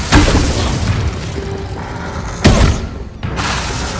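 An Incendio fire spell cast in a video game bursts with a loud, close booming blast at the start, followed by rumbling, and a second heavy explosion comes midway.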